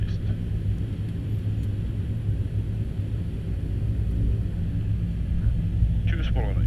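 A DAT ATR42-300 turboprop taxis before takeoff, its engines making a steady, loud low rumble that fills the cabin throughout, with a brief whine near the end.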